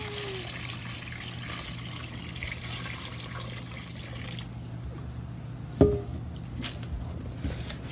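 Water is poured into a container of water beads in a children's ocean animal toy set, a steady trickling and splashing that stops partway through, followed by a single sharp knock and quieter dripping.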